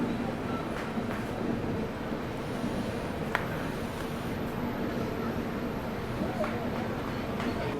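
Mumbai local train pulling into a platform, a steady broad rumble and rattle of railcars that holds throughout at close range, with faint station noise layered on top and no clear talk.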